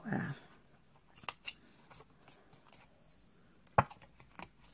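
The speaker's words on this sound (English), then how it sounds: "Cut up the score line, cut away the bottom two, and then cut away this end square." Scissors snip through scored card while a foldable note card is being made, a few faint, sharp close cuts spread out over a quiet background.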